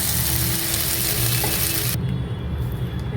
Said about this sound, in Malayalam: ഈ ചിക്കന് ഒരു ഗോൾഡൻ ബ്രൗൺ ആകുന്നത് വരെ കുക്ക് ചെയ്യുക